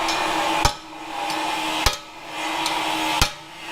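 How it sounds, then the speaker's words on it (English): A big hammer strikes metal dimple dies in an off-road bread van build, three sharp, loud blows spaced roughly a second apart, each ringing briefly over a steady background hum. "Here's my big hammer."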